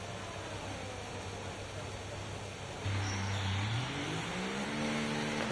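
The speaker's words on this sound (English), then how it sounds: "Why is the engine so quiet?" F1 car engine in the F1 24 racing game, a steady low drone that turns noticeably louder and climbs in pitch partway through, sounding fairly subdued overall with no talk over it.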